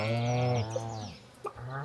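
Cow and other farm animals in the farming game Stardew Valley, a long lowing moo followed by brief, softer animal calls, clear and alone with no talk.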